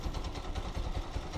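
Honda TMX 125 Alpha motorcycle engine idling, a low steady pulsing putter, close and continuous for a short stretch with no talk.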